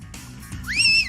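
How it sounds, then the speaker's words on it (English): After some low fumbling sounds, a person gives a short clear whistle that rises and then falls, close and fairly loud. "Can you whistle for me? That's a whistle?"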